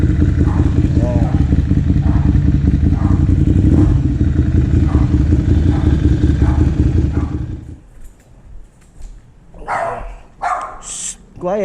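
A Yamaha R6 or Ducati Monster 795 on a full titanium exhaust idles and revs loudly for several seconds, then falls quiet as a dog barks nearby.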